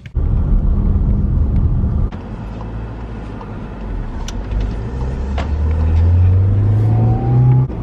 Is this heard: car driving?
yes